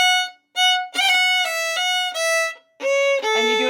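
Fiddle plays the folk tune I'se the B'y with a turn ornament worked into the melody, a short phrase of bowed notes with brief gaps between groups, close and solo without speech.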